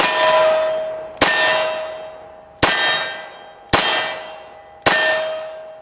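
A Glock 41 firing .45 ACP rounds at steel targets, five sharp shots spaced about a second apart, each followed by a ringing metallic clang that slowly fades.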